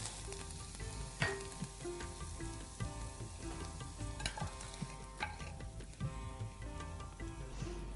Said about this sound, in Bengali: তেল, সর্ষে, কাঁচামরিচ আর কারি পাতা মিলে যে কি অপূর্ব একটা ফ্লেভার তৈরি হয়। এবার আমি ঢেলে দেবো এর উপরে।